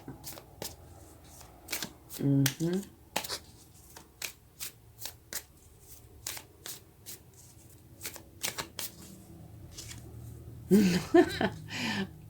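Tarot cards are shuffled by hand in a run of crisp slaps and riffles close by, with brief soft voice sounds in two spots.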